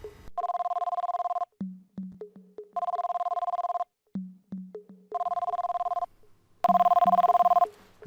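A telephone rings in The X-Files video game, with repeated electronic ring bursts separated by short gaps and soft lower blips between them, fairly loud and with no voices.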